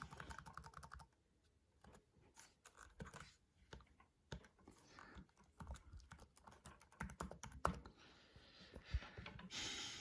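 Typing on the keyboard of a new laptop, fairly quiet and close, with quick irregular clusters of key clicks and short pauses, and no talking.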